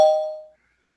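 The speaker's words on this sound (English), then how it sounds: "Sounds like the doorbell." A single bright electronic ding of a doorbell sound effect, sharp at the start and ringing out cleanly for about half a second before silence.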